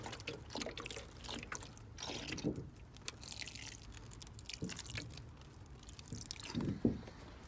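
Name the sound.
watering onion seedlings with a homemade milk-bottle watering can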